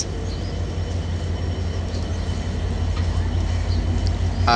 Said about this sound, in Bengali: ট্রেনটি এখন বেনাপোল উদ্দেশ্যে ছেড়ে যাচ্ছে।